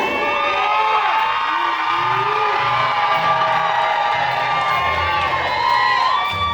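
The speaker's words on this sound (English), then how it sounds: "I need all the family in the back to scream" At a graduation ceremony, a large crowd of family members in the back cheers, whoops and screams. The loud, sustained roar carries high shrill shouts and rises and falls slightly throughout.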